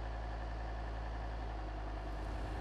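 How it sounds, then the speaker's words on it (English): A new Volvo diesel car engine idles steadily with a smooth, even hum and low rumble, constant and close throughout with no voices. "Volvo's technicians are also proud of the sound of the engine."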